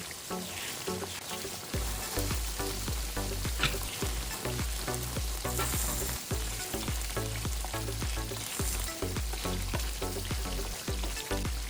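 Garlic chicken karahi fries in a pan with crushed black and red chillies stirred in, a steady loud sizzle with stirring scrapes running throughout over rhythmic background music.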